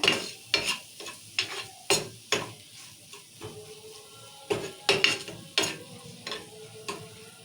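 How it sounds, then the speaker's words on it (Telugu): Spices with coriander powder and garam masala being stirred and fried in a pan, heard as a rhythmic run of scraping spoon strokes against the metal over a faint sizzle. "ఇవన్నీ బాగా రెండు నిమిషాలు కలుపుకుందాం ఇట్లా"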